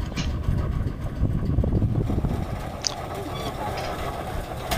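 A 1920s Titan hit-and-miss gasoline engine runs with a steady low mechanical chugging and rumble, with a voice talking faintly over it.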